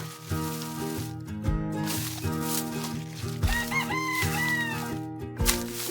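A rooster crows repeatedly with long, strained cries, alongside clucking hens and a busy farmyard murmur, fairly close.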